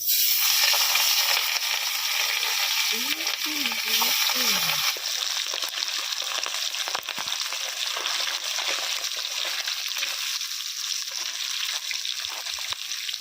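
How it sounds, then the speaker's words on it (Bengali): Fish fry in hot oil in a kadai wok in a village kitchen, giving a continuous loud sizzle and hiss throughout. A voice briefly speaks over it early on. "কড়াই তেল গরম হয়ে গেছে, এবার মাছগুলো তেলের মধ্যে দিয়ে দিই"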